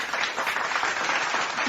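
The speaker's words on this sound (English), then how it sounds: "Some real applause fanatics out there." Audience applause, a dense and steady wash of many hands clapping together at an even level, with no break for the whole short stretch.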